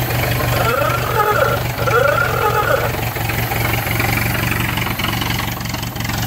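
A 1926 Ford doodle bug tractor engine idles with a steady, loud, low mechanical drone and a faint regular pulse that runs throughout without a break.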